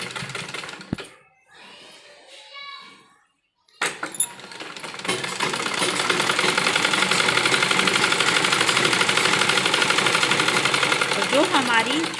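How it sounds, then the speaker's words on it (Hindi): A sewing machine stitches along the edge of a child's umbrella-style frock, its steady motor whirr running close and continuous for several seconds after a brief stretch of quieter handling sounds. "यहाँ से हमें किनारे पर सिलाई लेनी है"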